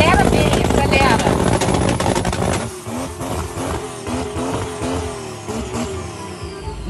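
A BMW engine revs hard while drifting, its pitch climbing and wavering through sharp accelerations, loud and close. People talk over the engine noise.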